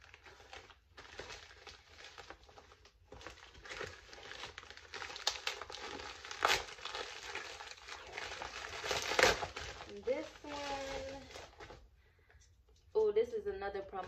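Tough plastic packaging crinkling and crackling as it is pulled open by hand without scissors, in irregular bursts of rustling at close range, with someone talking briefly near the end.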